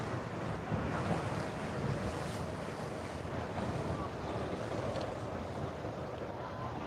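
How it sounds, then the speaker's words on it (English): Steady wind blows along the Waikiki waterfront, a faint, continuous rushing with wave-like wash and no voices. "Oh, that wind feels good, doesn't it, Lucille?"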